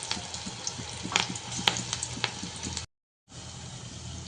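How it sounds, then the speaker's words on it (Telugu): Cabbage pakodi deep frying in hot oil, a steady close sizzle with scattered crackles and pops, briefly cut to silence before resuming. "ఇలా 2 సైడ్స్ బాగా బ్రౌన్ కలర్ వచ్చే వరకు డీప్ ఫ్రై చేసుకోవాలి."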